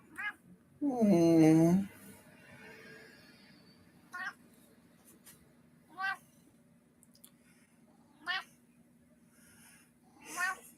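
A pet cat named Josie meows in a quiet room, a strong drawn-out meow at the start followed by several short, softer chirping mews spaced a couple of seconds apart, with a person murmuring faintly nearby.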